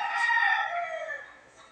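A rooster from Negros lets out one close, clear crow, drawn out and falling in pitch before fading.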